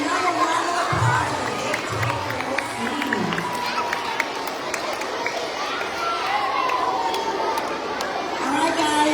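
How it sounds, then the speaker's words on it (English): Children at a school assembly cheer and clap amid loud crowd chatter and shouting, a busy, steady roar of young voices filling the hall throughout. "another round of applause"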